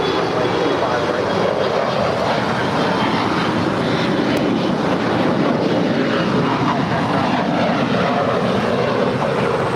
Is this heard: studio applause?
no